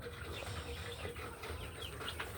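Chickens cluck softly amid a steady, noisy outdoor background, with no one speaking.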